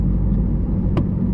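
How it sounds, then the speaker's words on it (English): Small car driving along a road, a steady low engine rumble and road noise filling the cabin, with one brief click partway through and no talking. "I am driving my little car today"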